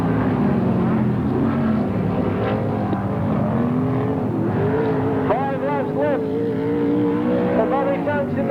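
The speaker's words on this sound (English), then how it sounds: "In front of Wallace in car number 9, and here comes Stevens trying to find a gap as he goes 3 wide to get into 3rd position." Sprint cars race around the dirt oval at Parramatta City Raceway in 1981/82, a continuous loud engine roar with rising and falling revs as cars pass, under steady commentary.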